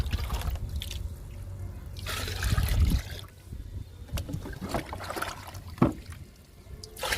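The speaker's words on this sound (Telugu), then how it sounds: "ఇది వేపాకు లిక్విడ్. ఈ బకెట్లో 2 పోస్తున్నాను." Neem leaf liquid splashes and gurgles as it is poured into a bucket for garden plants, a close watery pour with a heavier gush midway and softer trickles after.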